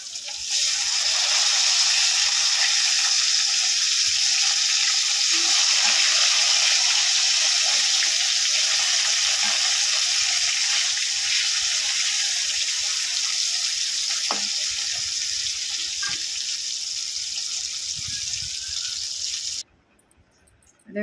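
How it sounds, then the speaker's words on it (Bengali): Rohu fish pieces fry in white oil in a kadai, a loud, even sizzle that holds steady and close for most of the stretch, then drops away near the end, with no talk. "মাছগুলো এবারে ভেজে নেব।"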